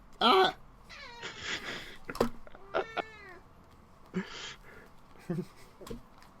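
A cat meows and yowls in short, strained bursts while struggling, close by, with people talking quietly in between.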